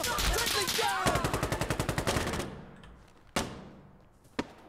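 Automatic gunfire bursts in the video game Insurgency: Sandstorm, a rapid rhythmic string of shots that fades into two sharp single cracks, close and loud.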